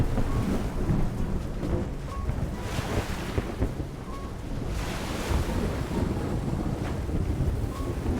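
Stormy sea in the game Love and Deepspace: heavy waves surge and crash continuously under steady roaring wind, loud and close with no voices.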